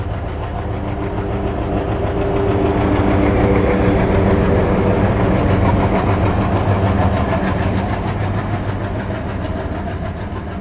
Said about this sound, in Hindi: और यहाँ से ट्रेन अभी आ रही है।